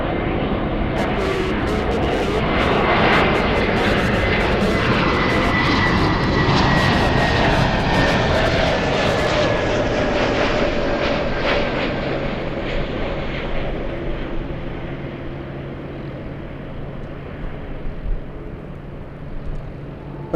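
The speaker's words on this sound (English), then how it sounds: "JetBlue flying to Boston at JetBlue 388" A JetBlue jet airliner bound for Boston moves at LAX airport, its engines a loud, broad roar that holds strong and then slowly fades and recedes over about twenty seconds.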